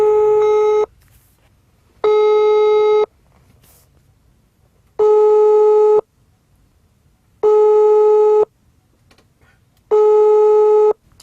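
Telephone call going unanswered: five long, loud, evenly spaced tone bursts, each about a second with quiet gaps between, steady and close with no talk.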